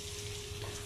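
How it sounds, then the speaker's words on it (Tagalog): Onions fry with golden-brown garlic in a pan, a dense, even sizzle heard up close for a brief moment, with no talking. "golden brown na yung garlic. I-add na niya ngayon yung onions"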